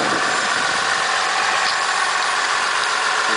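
A 2009 Ram 4500 dually pickup with a Cummins diesel engine idles steadily and close by, a continuous even drone with no talk over it.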